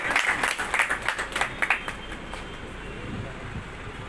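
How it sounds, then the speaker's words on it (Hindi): An audience at an award ceremony bursts into clapping for a prize winner, sharp claps fading after a couple of seconds into a quieter room murmur. "जोरदार तालियां"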